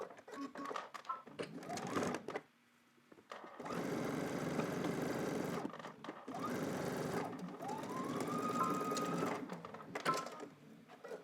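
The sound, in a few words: sewing machine stitching a seam on drop crotch pants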